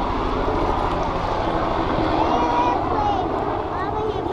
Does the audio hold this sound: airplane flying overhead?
yes